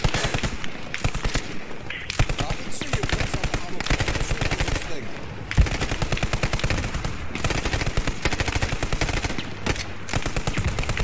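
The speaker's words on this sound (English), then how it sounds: "Cord, watch that machine gun." Machine gun fire in the video game Post Scriptum comes in long, rapid bursts that run almost the whole time, loud and close, with brief pauses between the volleys and a few heavier shots mixed in.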